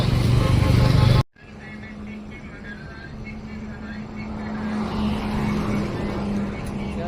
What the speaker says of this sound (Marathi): तर आता आमची गाडी येते, आम्ही गाडीची वाट बघतो